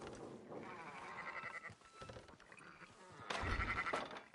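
Sheep bleat several times in a short, quiet burst, one louder cry near the end, with no talking, from Red Dead Redemption 2.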